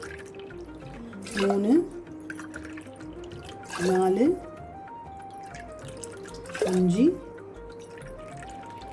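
Water poured from a tumbler into a pot for cooking rice for Marichi Annam, a temple prasadam: three separate short pours about two and a half seconds apart, with a voice counting between them.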